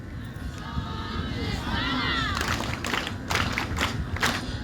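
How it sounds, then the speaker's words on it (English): Crowd applause at a graduation ceremony for skilling hub graduates, scattered claps building with sharp individual hits and some crowd noise mixed in. "Please give them a hand of applause."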